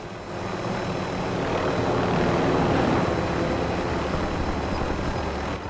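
Helicopter in a multiplayer battle royale game, a steady, loud engine and rotor drone that swells slightly midway and holds throughout without speech.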